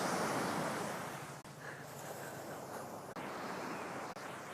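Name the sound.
ocean waves at the beach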